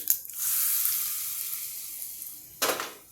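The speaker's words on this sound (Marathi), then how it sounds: "ही फोडणी मी या तक्कूवर ओतते" Hot oil tempering poured onto grated raw mango hits with a sudden loud sizzle that slowly fades, followed by a second sharp burst of sizzling near the end.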